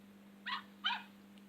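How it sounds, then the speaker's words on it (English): A young pet puppy gives two short, high yips close by, spaced under half a second apart, faint over a steady low hum, with no talking. "She likes barking all day."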